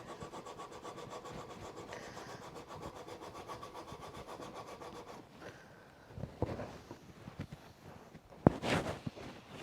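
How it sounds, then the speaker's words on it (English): Sandpaper rubs back and forth across a wooden joint with wedges and tenons, a steady close scratchy rasp that eases off and then gives way to a few louder handling knocks near the end. "I'm next just going to try hitting it with my sandpaper"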